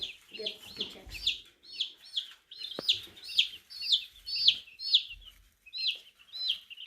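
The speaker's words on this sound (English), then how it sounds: "That's how we get to get the chicks." Hatched chicks on a farm peep in a steady string of sharp, high chirps, roughly two each second, close by. Faint low murmurs and thumps sit underneath.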